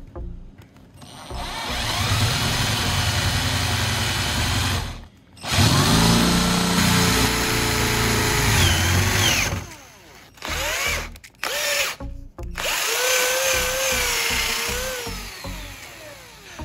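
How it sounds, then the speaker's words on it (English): A power drill bores a hole through the middle of a wooden handle, whining loudly and steadily in long bursts separated by short pauses, with no talk. "Drill a hole in the middle of the wooden handle."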